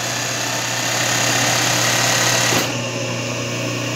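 An embroidery machine stitching a Richelieu-style shaded design, a loud, close, steady mechanical hum with rapid rhythmic needle chatter that eases off briefly near the end.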